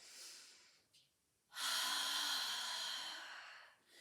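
A soft breath in and then a long, steady, breathy exhale during a Pilates mat class, close and quiet, with a short sniff between them.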